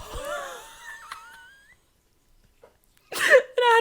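Imitated wheezy, congested breathing through a blocked nose, with several strained nasal wheezes up front, a near-silent pause, then louder wheezing bursts and voiced sounds at the end, all close to the mic.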